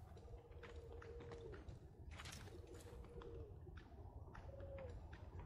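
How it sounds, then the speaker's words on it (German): Pigeons cooing in Assassin's Creed, soft repeated low coos in several drawn-out phrases over a constant wind-like ambient bed with light footstep-like clatter, fairly quiet, no speech. "Sind aber Tauben."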